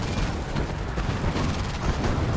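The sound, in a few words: shockwave artillery firing in the video game Command and Conquer: Kane's Wrath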